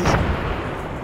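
Artillery strike blast in a Vietnam War video game, a single loud close explosion with a heavy low rumble that decays quickly, no talking.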